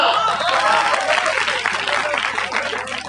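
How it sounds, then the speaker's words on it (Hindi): An audience at a Hindi poetry gathering (kavi sammelan) claps in a short, dense burst of applause that carries evenly before tapering slightly. "सभी लोग तालियां बजाइएगा।"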